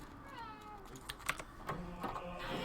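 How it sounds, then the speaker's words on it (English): A house cat meows several times in short, close bursts while keys clack softly on a computer keyboard, with no voices. "Hey, meow, come here. My cat wants some attention."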